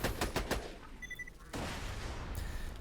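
Rapid bursts of gunfire from a fast-firing weapon in the shooter game Borderlands 2, loud cracks in quick succession with a brief electronic chime between volleys, then a sustained roar of shots.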